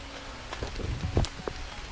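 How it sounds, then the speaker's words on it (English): Heavy rain falls steadily in a continuous broadband hiss on a wet Cornish trail, with scattered taps and splashes from drops and light movement nearby. "It's still tipping rain, it's been tipping rain all day"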